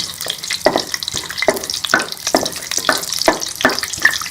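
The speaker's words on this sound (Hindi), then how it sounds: "कढ़ाई में मैंने ऑयल को गरम कर लिया है। अब इसके अंदर ये साबुत गरम मसाला डाल दूंगी और इसको रोस्ट कर लेंगे।" Whole garam masala roasting in hot oil in a kadhai gives a close, steady sizzle, broken by rhythmic scraping strokes of a spoon stirring the spices, with no voices.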